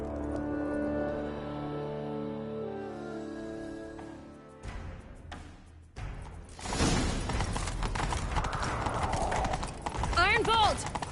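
Rapid hoofbeats of a galloping horse in The Witcher 3: Wild Hunt take over after a sustained droning chord, with a whinny and voices speaking over the clatter.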